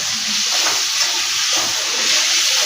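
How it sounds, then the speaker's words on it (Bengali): Cumin-coriander masala spice paste frying in a pan for chicken biryani, a steady close sizzle and hiss with faint stirring scrapes, continuous throughout. "তো এটা মশলাটাকে আমি একটুখানি ভালো করে কষে নেব ভালো করে।"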